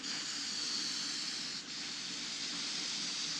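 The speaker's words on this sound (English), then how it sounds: "Got a fairly wide spray pattern on these cans." A spray can hisses in one continuous, steady burst, close and even, with a tiny break near the middle before it resumes.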